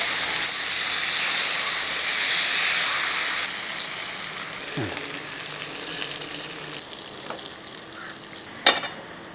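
Steady, loud sizzling of mackerel frying in hot oil in a pan, with a few scraping stirs and a sharp clink near the end.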